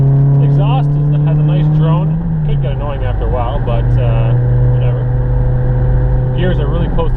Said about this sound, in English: The exhaust has a nice drone.